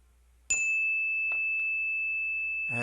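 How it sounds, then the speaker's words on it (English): A single bell is struck once, giving a bright, clear ring that hangs and slowly fades, with a couple of soft knocks and rustles afterward in an otherwise quiet room. "As the sound of this bell fades into the cosmos"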